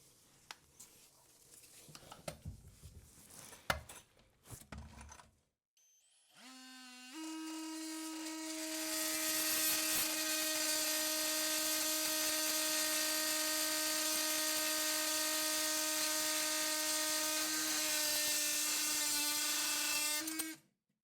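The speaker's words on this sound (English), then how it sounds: "I'm just gonna have to cut both these bolts off just because I can't, they're just all so bad and rusted up" A small rotary cutting blade cuts through badly rusted toilet tank bolts. Close handling clatter comes first, then a loud, steady, high whine runs for about thirteen seconds before stopping.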